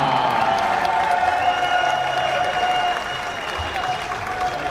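Steady audience applause fills a foosball tournament hall at the ITSF World Cup as a player is introduced, a dense, continuous clapping that stays loud throughout and eases slightly toward the end.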